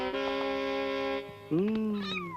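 A cat meows loudly up close in two long drawn-out cries, the second rising and wavering as it fades.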